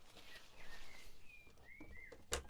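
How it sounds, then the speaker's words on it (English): Loud songbird calling outdoors close by, with several bright rising and whistled phrases over steady background noise, ending in a sharp burst. "it is a very noisy bird"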